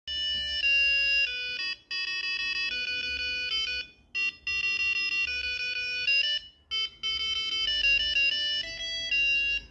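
An Arduino plays a melody as a string of bright electronic beeping tones, steady and fairly loud, with a few short gaps between phrases.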